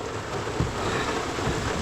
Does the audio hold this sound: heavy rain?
yes